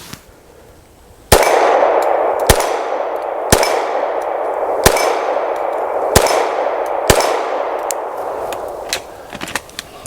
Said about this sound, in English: if I can hit that 6-inch steel plate at 25 yards